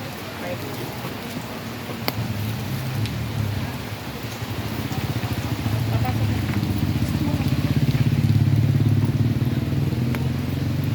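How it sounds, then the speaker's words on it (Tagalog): Heavy rain from a typhoon pours steadily, a dense hiss of drops drumming on a surface that grows slightly louder, with faint voices underneath. "Ang ulan na guys. Ang lakasan ng ulan."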